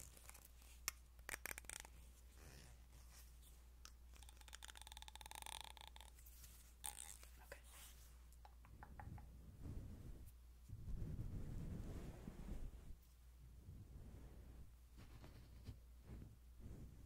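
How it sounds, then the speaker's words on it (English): A comb runs through hair very close to a sensitive microphone, making soft scratchy rustles and faint tugging strokes over a low steady hum. It is quiet, with no talking. "just gonna run a comb through it."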